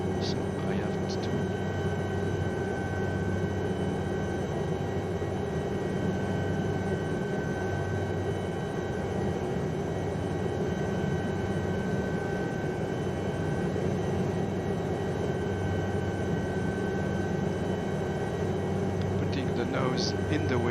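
Lama SA315 helicopter manoeuvring in strong winds, heard as a continuous, loud rotor and engine drone with steady tonal hum throughout, with no breaks.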